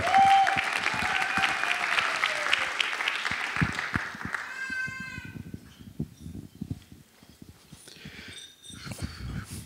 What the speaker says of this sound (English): So if we all give a round of applause.